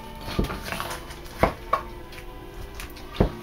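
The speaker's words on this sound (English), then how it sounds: "I am actually cutting right along that breastbone" A knife cuts along the breastbone of a turkey breast on a board, giving a few separate close thuds and taps spaced over a few seconds against quiet kitchen background.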